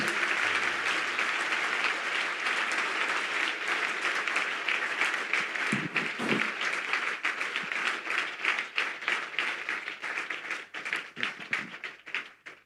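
A church congregation applauds at a deliverance service, dense sustained clapping that thins into scattered, irregular claps toward the end, with brief voices in the middle.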